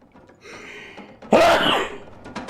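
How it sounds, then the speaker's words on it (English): A video game character gives one loud, close sneeze with a sharp burst after a brief intake of breath, set in a stormy survival game in misery mode. "Big sneeze."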